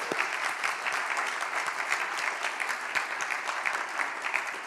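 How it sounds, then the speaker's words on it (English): An audience at a policy pitch competition final applauds steadily throughout. Dense, even clapping from a sizeable crowd fills the room at a constant level with no talking over it. "A round of applause for that."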